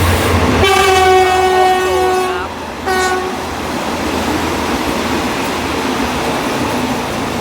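GEK 4016 diesel locomotive, powered by two 1,320 hp Cummins KT38L engines, hauls passenger train 260 to Nam Tok and sounds a loud, sustained multi-tone horn blast, then a shorter second blast, over the steady rumble of the passing train.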